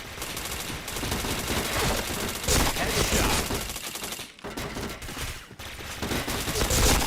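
Dense, continuous gunfire rattles through a shooting video game, loud and sustained with short dips between bursts and faint voices in the background.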